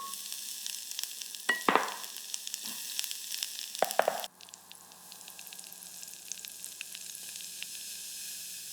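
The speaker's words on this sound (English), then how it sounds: "Listen to that sizzle." Potatoes with fresh rosemary sizzle steadily in a hot pan, with a few sharp clinks and stirring knocks early on, after which a softer continuous frying hiss settles in.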